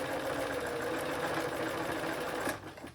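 A sewing machine runs in a fast, even, continuous whir while back stitching a marionette robe, close and steady, then stops abruptly near the end; no speech.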